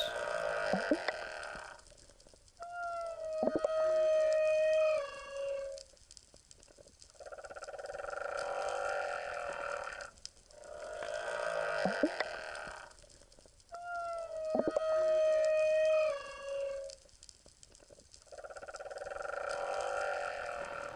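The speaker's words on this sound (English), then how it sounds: "We go to sleep that night with the whale song echoing through the halls." Long, moaning whale calls rise and fall in repeated phrases, with tonal wails and low groans separated by pauses, heard through water.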